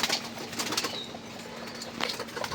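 Pigeons feed just after grain is scattered, giving soft pecking taps, brief wing flutters and a faint coo, heard up close in a quiet setting.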